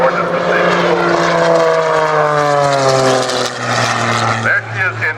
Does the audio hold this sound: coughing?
no